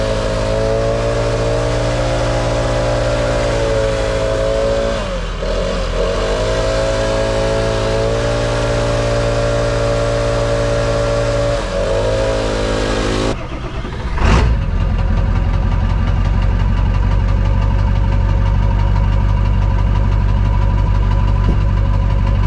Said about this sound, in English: I'm gonna load this up in the dump truck, get the dump truck warming up